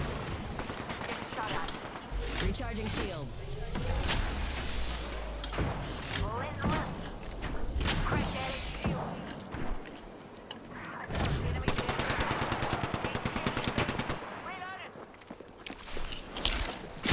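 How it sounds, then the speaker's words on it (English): Gunfire in the shooter Apex Legends, with loud bursts of automatic fire and single shots coming in dense clusters, thuds and footsteps mixed in, and a player talking over the fighting. "Taking fire."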